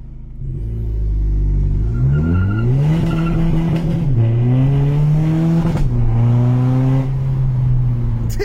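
A loud Volkswagen Golf Mk6 GTD 2.0 TDI engine, tuned to 300 hp, revs continuously, pitch climbing through several gear-like rises and drops, close and roaring throughout.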